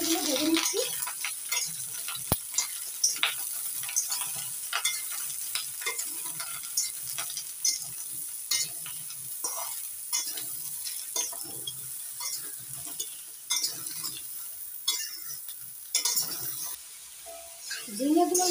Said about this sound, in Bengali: ঝিঙেগুলো ভেজে নিচ্ছি।